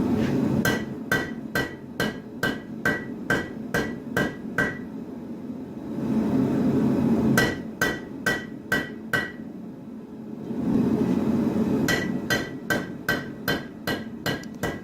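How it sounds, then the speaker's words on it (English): Sharp metallic rounding hammer strikes flattening hot steel for a full-tang knife ring out in quick, steady bursts, pausing twice between rounds of blows, close and loud. "the rounding hammer to help flatten everything out"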